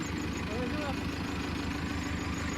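A farm tractor idles steadily in the open, its low engine rumble continuous and fairly close while people talk nearby throughout.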